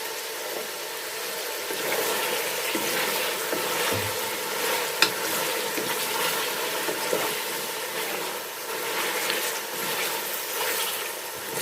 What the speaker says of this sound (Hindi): अब हम इसके अंदर अदरक लहसुन का पेस्ट ऐड करेंगे। बिस्मिल्लाहिर्रहमानिर्रहीम। इसको मिक्स करेंगे।